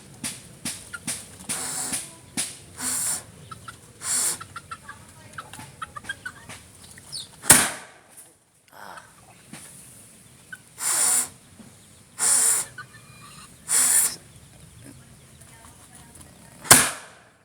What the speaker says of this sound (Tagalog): Sanay na yung mga manok natin dito ah. Ito pa yung mga manok oh.